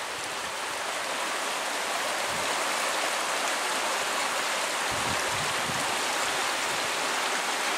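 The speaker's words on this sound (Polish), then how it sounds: "obok tego pięknego zakątka przepływa rzeka Młynówka." The Młynówka river flowing past a trout farm in Goszów in the Kłodzko region, a steady soft broadband rush of moving water, moderately distant and unbroken, with no voices.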